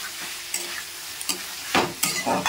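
Vegetables and spices are stir-fried in a pan, with a low background sizzle broken by sharp scraping and stirring strokes that grow busier toward the end.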